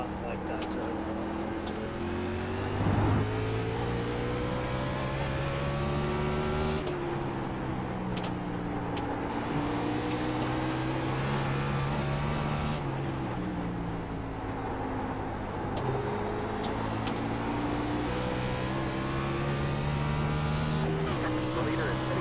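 A turbocharged race car in a racing video game at Watkins Glen runs at sustained high revs with rising and falling engine tones through gear changes and occasional tire squeal, while a person talks over it.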